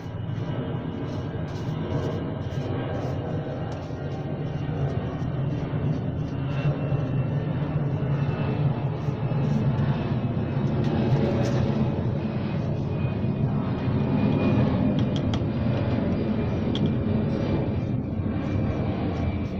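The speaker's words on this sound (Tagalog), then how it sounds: "Mayroon na naman po uling eroplano." An airplane drones overhead as a loud, steady low roar that holds for the whole stretch with no pause, heard outdoors in the Philippines with no voices over it.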